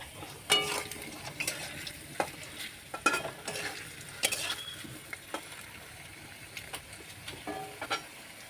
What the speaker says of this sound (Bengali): আলু আমি ভেজে নিই লাল করে দিই